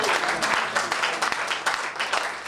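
Church congregation bursting into loud applause, a dense wash of many hands clapping with rhythmic surges throughout.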